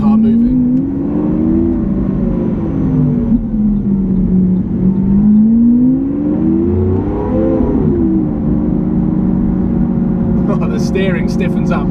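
A Lamborghini Aventador SV's engine drones loudly, its pitch swelling and easing several times as it pulls away, while a person talks over it.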